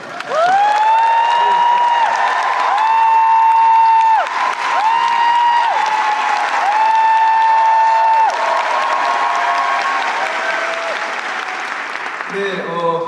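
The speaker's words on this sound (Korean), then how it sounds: "여러분들 뜨거운 박수로 환영해 주시기 바랍니다" A theatre crowd claps and cheers at the curtain call of the musical Notre-Dame de Paris during its 2024 closing-night performance. Sustained orchestral music plays over loud, continuous applause, and the sound quiets near the end.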